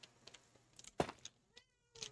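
A house cat gives a single short meow close by, set among faint rustling and small clicks in an otherwise quiet room.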